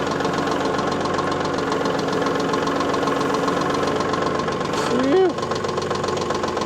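Tractor engine idling at low RPM while warming up, a steady close rhythmic knocking chug that runs throughout, with a brief breathy exhale from a man near the end.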